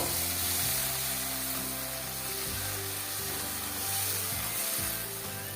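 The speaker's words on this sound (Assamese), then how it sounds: "সৰিয়হখিনি ধুনীয়াকৈ ভাজি ল'ব লাগিব" Mustard seeds frying in hot oil in a pan, a steady bright sizzle and crackle that holds close and even throughout, with a low hum underneath and no talk.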